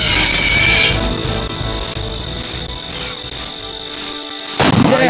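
Gunfire in the Primeval Hunt arcade shooting game arrives as a dense, loud, continuous barrage of blasts and booms layered over game sound effects, with a sharp new burst near the end.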